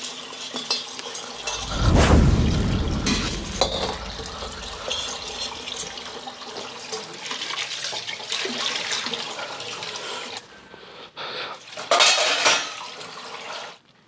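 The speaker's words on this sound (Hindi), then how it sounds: "धो तो रही है बर्तन एक पर खड़े रहकर" Dishes, pots and pans are washed by hand at a sink, with loud clattering and clinking of metal cookware and cutlery over running water, including a heavy burst of clanging early on. No one speaks.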